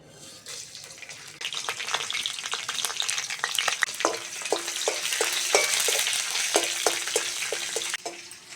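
Dried and green chilies, panch phoron, cumin and a bay leaf crackle and sizzle in hot oil in a kadai, with a steady frying hiss and irregular sharp pops throughout, no talking.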